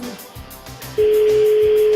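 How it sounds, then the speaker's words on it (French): A steady single-pitch telephone tone sounds clearly after a moment of quiet background murmur, continuing unbroken to the end. "Ça sonne."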